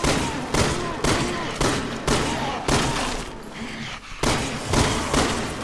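Repeated gunfire bursts in Resident Evil 6, loud heavy volleys roughly every half second to second, close and punchy, with brief gaps and a player's voice faintly underneath.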